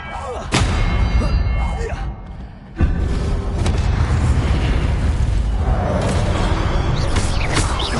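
A Confringo explosive spell blast in a Harry Potter video game, a loud booming burst with a thud near the start and another after a brief dip, amid continuous dense game noise and a shouting voice.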